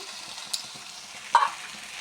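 Chopped ginger and garlic hitting a pan, producing a faint, low sizzle with two short clattering knocks of a utensil, the louder one near the end, and no talking.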